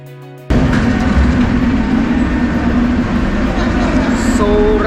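An old-fashioned Moscow metro train runs loud and steady from just after the start, with a low rumbling roar and a humming tone that holds throughout.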